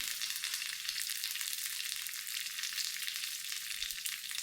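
Curry leaves hit hot coconut oil with mustard seeds in a pan for a tomato fish curry, giving a close, constant bright sizzle with fine crackling and spattering and no voices.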